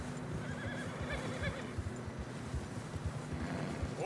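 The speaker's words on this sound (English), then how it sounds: "Horses are getting tired." A horse in the Red Dead Redemption 2 video game whinnies repeatedly while its hooves clip-clop steadily along a snowy trail, close and moderately loud over a soft windy background.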